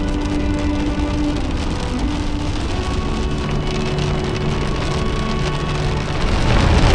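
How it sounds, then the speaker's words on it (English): Heavy rain drums steadily on the roof of a campervan driving through mountains, a dense, constant hiss that swells slightly louder toward the end. "it's raining for good measure as well, luckily it's only spitting at the moment"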